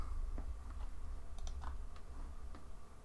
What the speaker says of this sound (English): I blame typing. You're fragging the sounds.